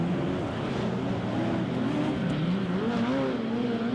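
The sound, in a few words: speedway race cars racing wheel to wheel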